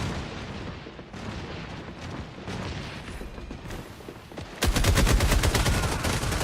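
Rapid automatic gunfire in a video game, softer scattered shots at first, then a loud, fast, continuous burst of evenly spaced rounds in the final seconds.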